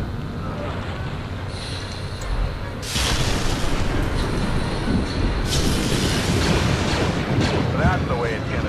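A turret blows up in the Star Wars The Force Unleashed video game, with a loud rumbling blast that jumps in force partway through and dense roaring noise continuing after it.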